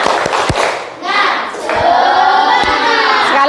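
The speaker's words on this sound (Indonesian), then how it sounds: "Tepuk semangat, ayo tepuk semangat." Children in a classroom do a rhythmic spirit clap, with sharp hand claps at the start and again later, while excited young voices shout and chant together over and between the claps.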